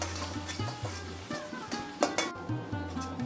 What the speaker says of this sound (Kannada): ಇದು ಸ್ವಲ್ಪ ಫ್ರೈ ಮಾಡಬೇಕು.